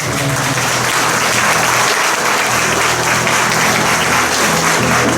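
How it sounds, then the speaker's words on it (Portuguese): Church audience giving a loud, sustained round of applause, dense continuous clapping filling the whole clip at close range. "Uma salva de palmas, William, para o"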